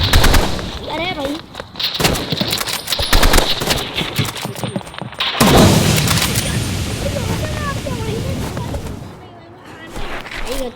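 Rapid gunfire and heavier blasts, including an RPG, in a video game shooting range, loud dense bursts that pause briefly and resume, with a voice talking over the shooting.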